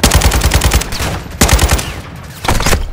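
In Call of Duty: Modern Warfare II, automatic weapons fire in loud, rapid bursts, two long rattling volleys separated by a brief pause, followed by a further burst.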